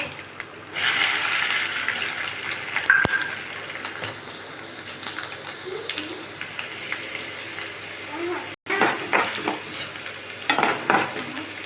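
Chana dal, mustard seeds and cumin sizzle and crackle in hot oil in a home kitchen, a steady frying hiss with scraping stirs and a brief clatter partway through.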